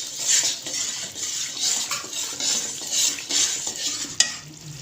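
A spoon stirs continuously through thickening sugar syrup in a pan over a medium flame while making sooji halwa, giving a steady scraping and swishing with a faint sizzle and a sharp clink near the end.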